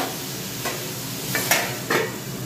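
Vegetables frying in a home kitchen pan, giving a steady close sizzle throughout, with a few sharp scrapes as they are stirred.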